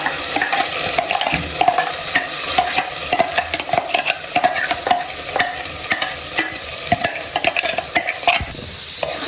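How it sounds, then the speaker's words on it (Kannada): Ground masala sizzling in hot oil tempering for Kannada bassaru while a spoon stirs and scrapes the pan, a continuous frying hiss broken by frequent sharp scraping clicks, close and loud. "ನೆಕ್ಸ್ಟ್ ಇವಾಗ ರುಬ್ಬಿರೋದು ಫುಲ್ಲು ಮಸಾಲೆ ಹಾಕೊಂಡ್ಬಿಡೋಣ."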